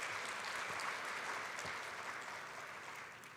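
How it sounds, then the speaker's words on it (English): Audience applause for a panel at a talk on scams, steady dense clapping throughout, fairly loud and even, tapering slightly at the end. "can we give a hand of applause for our panel?"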